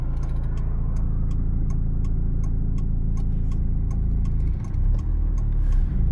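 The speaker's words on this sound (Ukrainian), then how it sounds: "Автівки просто не закінчуються їхати" Steady car traffic on a city road in Chernihiv heard from inside a vehicle, a continuous engine and road hum with a faint repeating tick like a turn signal, a brief dip near the end, no talking.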